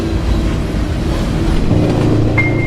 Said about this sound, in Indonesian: Kereta pun berhenti.